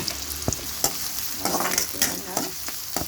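Finely sliced onion sizzles in a pan, with a steady frying hiss and repeated spoon scrapes and taps as the pieces are stirred, with no talking.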